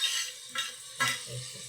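Spices fry in a pan for khichidi, a quiet, brief sizzle broken by two short stirring swishes, close and without talk.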